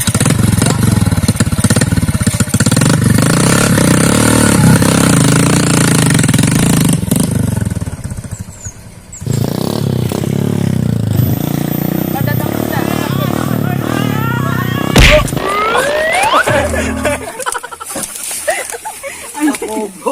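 A motorcycle engine rumbles loudly, with a steady low drone that drops out partway through before picking up again, while people talk and shout over it.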